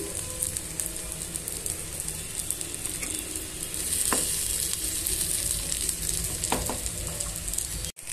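Thinly sliced potato pieces for a spicy potato fry sizzle steadily in a covered pan, a constant crackling hiss throughout, briefly swelling midway and ending with a sharp clatter.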